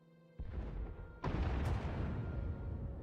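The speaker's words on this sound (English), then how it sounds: "Sounds like the bombing's getting closer." Bombing in Star Wars: The Old Republic sounds as two heavy booms a second apart, the second a rumbling blast that keeps roaring, with no talking.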